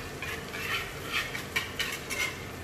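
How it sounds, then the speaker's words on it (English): A spoon scrapes and stirs a roux of melted butter and flour in a pan, a steady soft scraping with faint sizzle and light clinks, close and continuous with no talking. "The butter is melted, add in the flour. And keep mixing so it doesn't burn."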